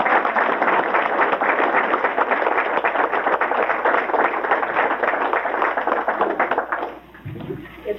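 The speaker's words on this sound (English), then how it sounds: "I would like a round of applause for this part of the panel" Sustained applause from an audience at an annual historical society meeting, dense steady clapping for about seven seconds before quickly fading out, with no voices over it.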